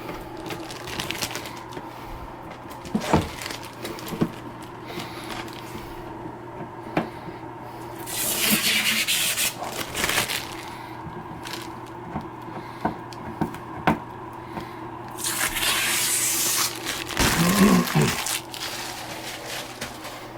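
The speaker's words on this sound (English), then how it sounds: "I have to do the peeling of the plastic." Protective plastic film peeled off a Bambu AMS 2 Pro filament unit, with bursts of crinkly tearing and crackling between clicks and taps, close by, mostly under a person talking.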